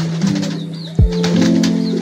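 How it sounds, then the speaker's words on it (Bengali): Pigeons in a pigeon house coo in low, steady repeated tones close by, with a sudden flurry of wing flapping midway before the cooing carries on. "এটা অনেক বড় একটা কবুতর"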